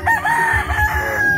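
A rooster crows nearby in the Philippines on Pamilacan island, a bird being readied for a cockfight, giving one loud, close, drawn-out cock-a-doodle-doo call.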